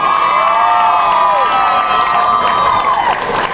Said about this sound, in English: make some noise for contestant number 1!